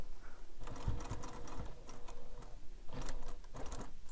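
A sewing machine stitches into the corner of a bag's lining with a steady, close mechanical whir and rapid needle clatter. A few short pauses break the rhythm as the stitching slows near the corner.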